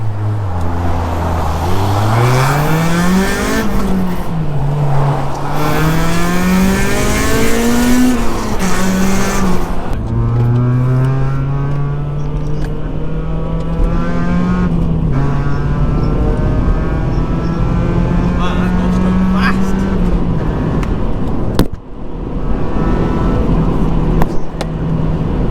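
A straight-piped Honda Civic EP3 Type R drones loudly from the cabin, engine note rising and falling through several gear changes, then settling into a steady cruise with a brief dip near the end.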